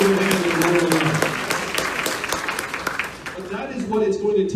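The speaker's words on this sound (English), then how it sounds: "Let's give them a round of applause." Applause at an Andrew Yang campaign rally at SXSW in Austin, a dense, steady wash of clapping from a large crowd that swells near the end, with voices mixed in underneath.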